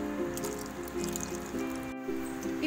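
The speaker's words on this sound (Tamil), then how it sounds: "இப்போ வந்து நல்ல தண்ணி விட்டு கொஞ்சம் அலம்பிடுவோம்" Plain water poured over curdled milk chhena to rinse it for rasagulla, with a steady trickle and soft dripping and squishing in a kitchen, continuous and fairly close.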